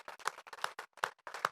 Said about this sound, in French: Est-ce qu'on peut applaudir la parole de Dieu?